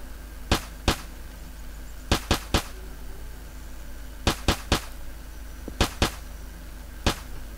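Gunfire in the co-op close-quarters FPS game Project Breach 2: sharp, loud shots in short clusters of two or three with gaps between, ending on a single shot, over a low steady background.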